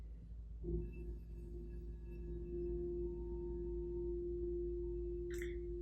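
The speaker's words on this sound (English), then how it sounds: "let yourself be enveloped by the soothing tones of the singing bowls" A singing bowl is struck once, and its warm tone hums on steadily and evenly. A brief high chirp sounds near the end.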